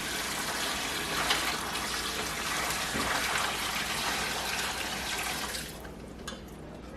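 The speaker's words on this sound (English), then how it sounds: "And then I pour in the warm brine solution." Warm brine solution pours steadily into a turkey brining bag, a continuous close splashing rush that fills the clip, easing off near the end.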